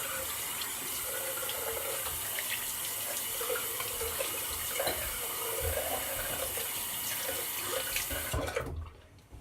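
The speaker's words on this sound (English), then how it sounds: "I'll do the cold water rinse in the post." Tap water runs steadily from a faucet into a sink for a cold rinse after a shave with a Sheermonnik Donderslag razor, a continuous close splashing stream that cuts off abruptly near the end.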